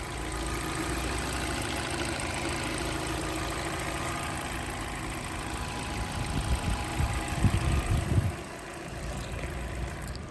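A 2013 Hyundai Elantra with a 1600cc engine idles steadily nearby, a constant low rumble that swells briefly and grows rougher for a couple of seconds before settling back to an even drone.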